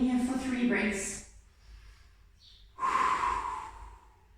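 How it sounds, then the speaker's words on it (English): Slow breaths in and out while resting in yoga child's pose during a Pilates session, two clear audible breaths separated by a quiet pause, close and soft. "just breathing here for 3 breaths"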